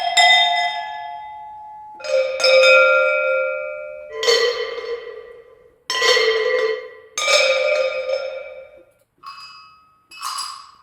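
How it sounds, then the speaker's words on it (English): Sampled Tibetan bells from a cinematic bars and tongue drum instrument library: about eight clear, separately struck metallic tones, each ringing out and decaying, with shifting pitches and silence between notes, no voices. "Next up, we have Tibetan bells."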